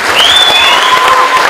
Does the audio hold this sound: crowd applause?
yes